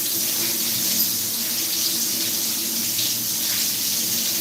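Carrots rinsed under a running kitchen tap, with a steady close hiss of flowing water that holds evenly throughout and has no talking.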